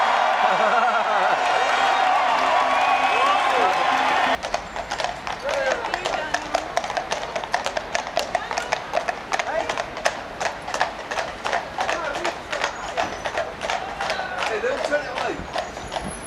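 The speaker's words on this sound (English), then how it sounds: "a police officer riding his horse while he's on his phone" Hooves of a police horse clip-clopping on a London street during a protest march, a steady close rhythmic clatter of many hoof strikes after a few seconds of louder crowd and street noise.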